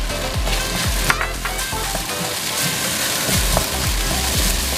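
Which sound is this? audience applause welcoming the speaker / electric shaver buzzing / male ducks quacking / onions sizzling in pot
onions sizzling in pot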